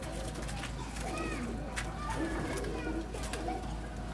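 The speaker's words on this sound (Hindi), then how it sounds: "कबूतर भी है।" Pigeons cooing softly in a loft, a few low throaty coos under a steady background hum with faint voices.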